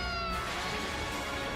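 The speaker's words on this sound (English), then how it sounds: "Cat." A cat in a game trailer gives one long, drawn-out meow over a full, dense music bed.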